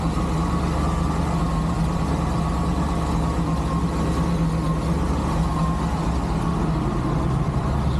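Chevelle engine idling rich on old gasoline, a steady low rumbling drone close by with an even, unchanging rhythm and no talking.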